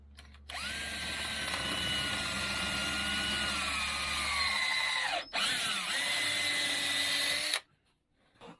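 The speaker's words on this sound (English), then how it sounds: "We're just going to drill 4 holes." A power drill bores holes for the runners of a vintage Polaris XLT snowmobile, its close, loud whine running about seven seconds with a brief dip near the end before it cuts off into quiet.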